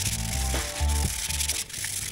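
Hand sanding on an Aston Martin V12 engine block, short rhythmic rubbing strokes scraping back and forth, close and moderately loud with no talk.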